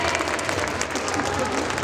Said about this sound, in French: On l'applaudit encore très très fort.